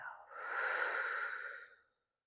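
One long, audible exhale during a yoga stretch, a close, breathy rush of air lasting over a second before fading into silence.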